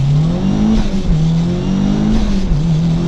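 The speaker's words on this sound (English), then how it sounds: "Watch how crazy this thing pulls out of 1st gear" A turbocharged Mitsubishi Evo pulls hard out of first gear, its engine roaring loud and close in a steady, rising howl with no break for the full few seconds.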